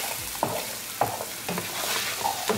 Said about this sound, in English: Now I'm going to bring gas on high and mix it well